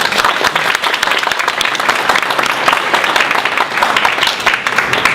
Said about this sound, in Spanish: Un aplauso para el maestro Lisandro.